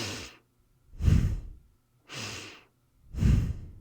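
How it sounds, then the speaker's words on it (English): Breath of Fire breathing exercise from Kundalini yoga, done at a slow pace: four close, distinct breaths through the nose alternate inhale and exhale, with the stronger exhales about a second apart and short silences between. "the key for Breath of Fire is to focus on the exhale"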